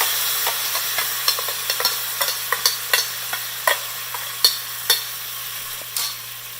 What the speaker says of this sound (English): Now I'm going to add the moong dal.